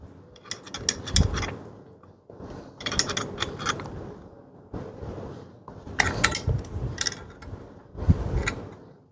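A lever bolt on a manual ring pull capping machine being tightened, heard as bursts of metallic ratcheting and clanking in several close, loud rounds separated by short pauses.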